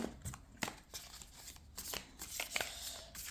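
A deck of tarot cards is shuffled by hand at close range, a quiet run of soft riffling and slapping bursts in an irregular rhythm, with no talk.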